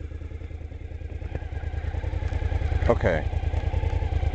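A motorcycle engine runs at a steady, close, low idle after the start button is pressed, with a brief clattering rise midway; a voice speaks briefly over it.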